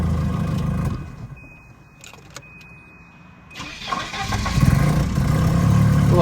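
A 1991 Volvo 740 wagon with a check-engine light and a tendency to stall runs, quiets briefly, then cranks and catches, settling into a loud, close idle.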